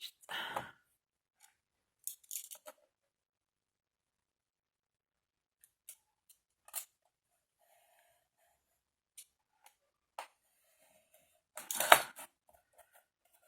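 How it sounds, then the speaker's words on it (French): A blade cuts through paper for a scrapbooking pouch in a few short, close snips and scrapes separated by long quiet gaps, the loudest stroke near the end. "je vais couper ici et ici"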